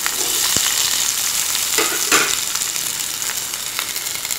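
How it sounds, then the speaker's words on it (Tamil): Chopped large onions sizzle and crackle steadily in hot oil in a pan, a close, continuous frying hiss with a few stirring scrapes, no talking. "வெங்காயத்தை வந்து நம்ம முழுக்க ரோஸ்ட் தான் பண்ண போறோம்"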